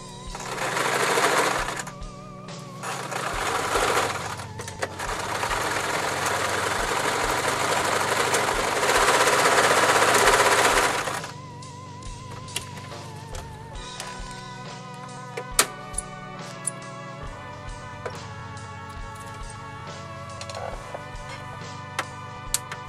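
A sewing machine stitches a fleece candy corn hat in long loud whirring runs with short pauses, then gives way to quieter rustling and small clicks of handling the fabric.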